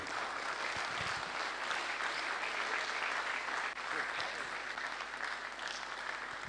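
An audience at a university pre-convocation lecture applauds continuously for the guest lecturer, a dense, even roar of clapping that holds steady throughout with faint voices beneath.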